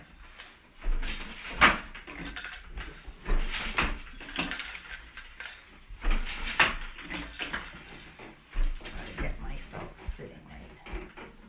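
Wooden treadles on a floor weaving loom thump and clack in an irregular rhythm while a twill towel is woven, with scattered knocks and creaks close by and a voice talking in between.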